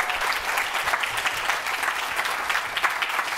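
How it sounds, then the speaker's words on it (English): Symposium audience applauds an award announcement, a dense, steady round of clapping from a mid-sized crowd in a room, continuous for a few seconds without talk. "here's a round of applause for Jennifer."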